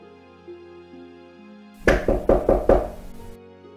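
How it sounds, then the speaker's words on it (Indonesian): Knocking on a door in an audiobook scene of an old house where a sick monkey is being tended, about five firm raps in an even quick rhythm over a faint background hum, fairly close and loud. "Ketukan pintu. Itu tentu dokter."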